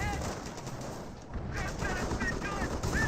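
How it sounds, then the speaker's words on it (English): Pak 38 anti-tank gun and sniper fire in the video game Company of Heroes, sharp gunshot cracks scattered over a busy battle soundscape, with a commentator's voice running on top. "Pack 38 firing away, Sniper taking some pot shots as well."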